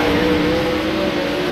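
Sprint cars race on a slippery dirt track, their engines holding a loud, steady drone close by with no clear passes or gaps.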